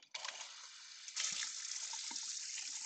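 Tap water gushes into a sink in a school calorimetry lab while equipment is rinsed. A short splash first, then a steady hissing stream running alone with a few small clinks.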